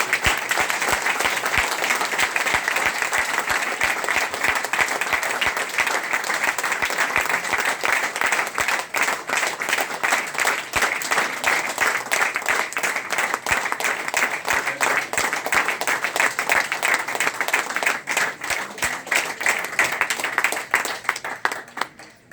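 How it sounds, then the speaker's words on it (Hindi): A large audience at a Pollux coin business gathering at Sukhdev Dhaba in Murthal claps continuously for over twenty seconds, forming a dense, even roar of applause that fades only at the very end. "वैसी तालियां बजाए।"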